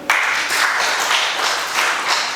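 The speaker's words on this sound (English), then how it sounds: "Clap for them." Steady applause and clapping from an audience honouring a coffee research team at a Bugisu event, a continuous broad wash of hand claps that holds for the whole span without pause.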